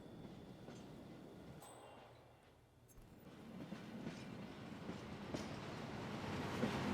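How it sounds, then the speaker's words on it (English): Train in the video game Hitman 2, Mumbai level, rumbling past with clattering wheels and occasional squeals, dipping briefly before swelling louder as it nears. "The second time the train passes,"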